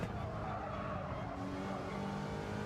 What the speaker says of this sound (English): So I heard tire screeching